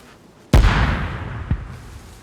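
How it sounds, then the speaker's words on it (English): A grenade explodes in the survival video game DayZ with one loud, sudden blast that rumbles and fades, and a second, smaller thump follows about a second later. "So here's grenade attempt number 2."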